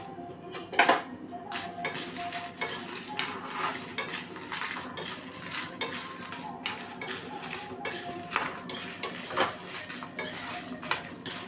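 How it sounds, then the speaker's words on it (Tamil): Dried red chillies are roasted in a pan for idli podi, with a metal spoon scraping and clinking against the pan in a steady, irregular rhythm of close, fairly loud strokes. "இப்போ நம்ம இந்த மிளகாயை சேர்த்து வறுத்துக்குவோம்"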